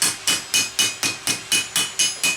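Hammer blows on a steel gothic gauntlet knuckle plate being roughed into shape, ten sharp ringing metallic strikes in a steady, fast rhythm, close and loud with brief ringing decay after each.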